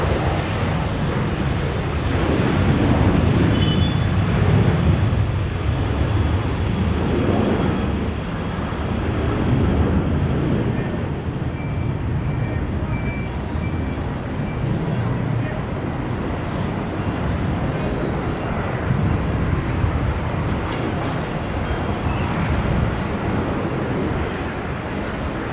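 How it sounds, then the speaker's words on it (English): A Boeing 737-8 departs Sydney Airport, its broad, rumbling jet roar steady and fairly loud throughout, with a voice talking over it. "just behind him now we've got a 737-8 departing"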